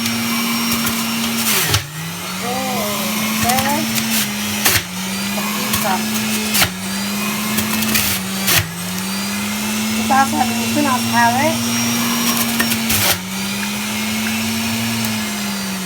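An electric grinding machine grinds sweet potato in a home kitchen, a loud, steady motor whine that briefly dips and recovers several times, with someone talking over it throughout.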